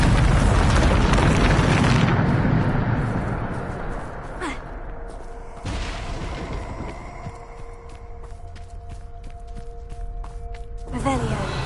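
A Bombarda blasting spell goes off in Hogwarts Legacy on PS5 as a loud, deep explosive rumble up close that fades over a few seconds, followed by lighter game effects and a sharp burst near the end.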